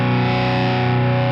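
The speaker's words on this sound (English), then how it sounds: "So you do a swell." A distorted electric guitar plays sustained chord tones in a volume swell, rising smoothly with the volume knob, played alone with a faint chorus shimmer.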